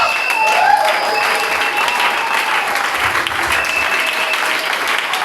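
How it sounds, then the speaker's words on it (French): Applause from a church congregation at a French-language service, a dense, steady clatter of many hands sustained throughout, with a faint murmur of voices mixed in. "Acclamons ça."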